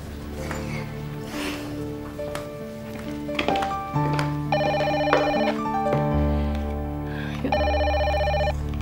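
A telephone rings in an indoor scene of an Indonesian TV drama, with two warbling electronic ring bursts rising over a sustained musical score and no talk.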